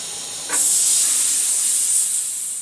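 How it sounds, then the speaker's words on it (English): Air pressure is let off a Primus paraffin kerosene stove, a sudden loud, steady hiss that starts after a brief moment of quiet and continues strongly to the end, with no voices. "when you want to shut them down, you do is just let the air pressure off"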